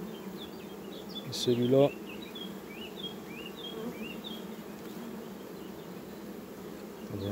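Honeybee swarm buzzing steadily and faintly as it is put into a hive, a soft continuous drone with a brief louder clatter early on and a short spoken phrase.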